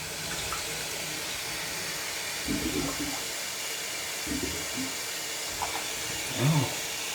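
A toilet being flushed to run clean water through after plunging a clog, a steady rushing hiss of water filling the bowl and tank, close and continuous, with a few faint knocks and gurgles.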